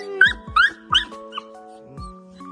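A small rescued puppy whimpering close by, three rising high whines in quick succession, then fainter softer whimpers.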